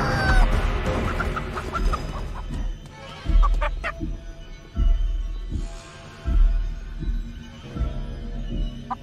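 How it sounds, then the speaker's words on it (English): A giant chicken in the video game Chicken Feet clucks and squawks loudly over a steady, rhythmic thumping of heavy footsteps, with no talk. "There's a giant chicken chasing me."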